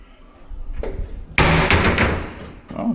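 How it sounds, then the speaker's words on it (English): A door stopper in a condo unit in the Philippines is pushed down with a sharp thump and knock, followed by a loud rattling clatter, then a softer knock at the end. "Door stopper down."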